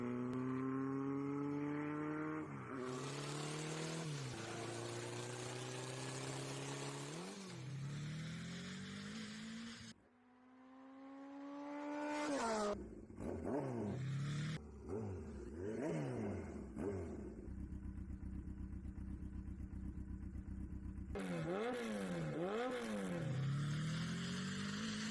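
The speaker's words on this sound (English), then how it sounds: "She literally jumped onto the boat with a motorcycle." A motorcycle engine in the Tomb Raider video game revs and roars in rising and falling pitch sweeps, loud and continuous, with a brief drop to quiet midway before climbing again.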